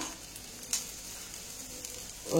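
Onion and fresh mint leaves frying in a pan for pudina rice, a soft, steady sizzle with a faint clink near the start and a louder rustle of stirring at the end.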